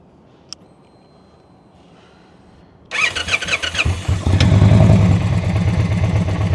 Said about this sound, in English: so we got the bike running